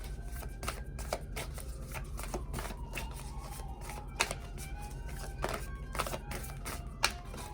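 Tarot cards are shuffled by hand in quick repeated riffles and soft slaps, a close, fairly quiet papery flutter with brief louder snaps near the end.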